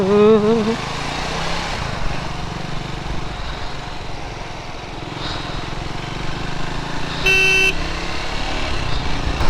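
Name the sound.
heavy highway traffic with honking, heard from motorcycle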